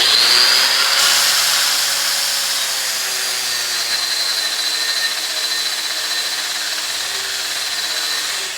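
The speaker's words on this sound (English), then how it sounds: "I'm gonna wire wheel it off." A wire wheel on a power tool scrubs a vertical 7018 weld bead, giving a steady, loud, bright whirring grind that holds continuously from start to finish with no voices.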